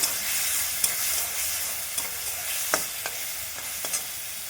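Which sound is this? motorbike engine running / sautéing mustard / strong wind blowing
sautéing mustard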